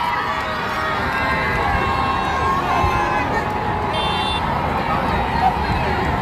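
A packed crowd roars steadily at the Pope's arrival in Congo, a thick wall of shouting and cheering voices with scattered whistles, sustained evenly from start to finish.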